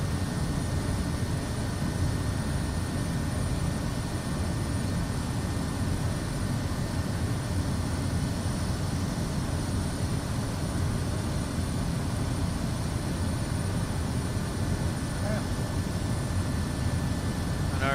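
A simulated aircraft engine holds a steady cruise RPM in Microsoft Flight Simulator 2024, a constant broadband droning roar with a faint high whine. It stays unchanging and alone for the whole stretch.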